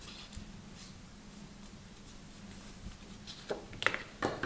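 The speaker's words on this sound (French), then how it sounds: "On marque le pli." A fold line scored into paper for a red-and-gold Christmas paper-craft album, a soft scraping rub drawn along the sheet, then a few sharper scratchy strokes near the end, close and quiet.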